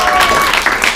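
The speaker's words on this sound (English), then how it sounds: "Please, tepid applause." Brief applause from an audience at an improv class show, a dense patter of clapping lasting about a second with cheers mixed in.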